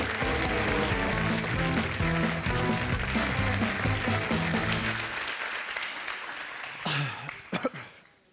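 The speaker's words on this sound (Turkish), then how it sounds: "Alkışlarınızla Sezer ve Zeynep." A crowd applauds loudly for several seconds, the clapping fading out, followed by a few scattered sounds and a brief cough.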